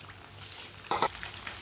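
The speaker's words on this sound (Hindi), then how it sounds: "अब एक पीस को पकड़ेंगे, ऑयल में डाल देंगे।" A large chicken piece is lowered into hot oil, with a soft steady sizzle and a brief louder spurt of frying as it goes in, close and quiet.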